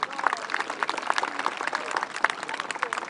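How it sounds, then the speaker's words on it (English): Outdoor audience applause at a history festival after a reenactment musket volley: steady, fairly distant clapping from a crowd, continuous throughout with a few louder claps standing out. "I think that deserves a round of applause,"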